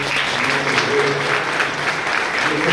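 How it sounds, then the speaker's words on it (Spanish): Loud, dense applause from an audience at a musical performance by an armed forces artistic troupe, sustained and even throughout without a break. "Queremos dar un fuerte aplauso."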